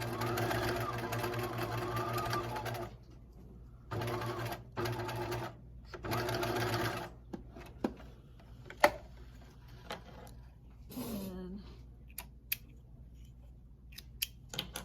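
A sewing machine stitching a fleece pullover runs in several bursts of rapid, even whirring, separated by pauses with small clicks and handling noises, while a voice talks in between.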